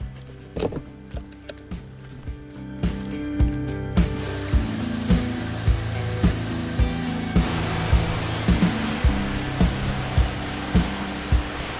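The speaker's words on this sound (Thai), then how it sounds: "เราไปนั่งเล่นริมน้ำตกกัน" Water rushing steadily at Jok Ta Din waterfall near E-Tong and the Pilok mine, a dense continuous roar heard up close, with scattered sharp knocks and footstep-like taps over the flow and no talking.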